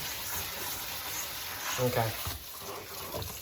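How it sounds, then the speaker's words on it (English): Tap water running steadily over canned beans in a colander, a continuous hissing splash with some rattling as the colander is shaken, and a voice speaking briefly over it. "you may have to shake the colander around, make sure that all the beans are getting rinsed off"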